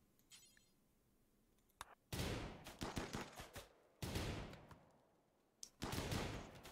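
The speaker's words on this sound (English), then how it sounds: "considering how I see my people shooting here, the Abiyasre kinship is attacking us" Gunfire from colonists shooting in the video game RimWorld, several loud bursts of rapid shots separated by short quiet gaps, with no voices.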